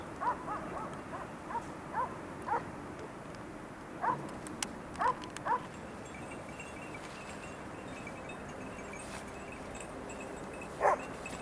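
Hunting dog barking in short, scattered yelps and barks at a moderate distance during a wild boar hunt in the hills of Ordu, with steady outdoor background noise and no talking.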